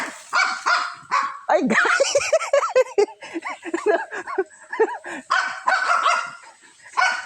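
A dog barks repeatedly in quick, yappy bursts close by, mixed with some whimpering, while a person speaks briefly amid the barking.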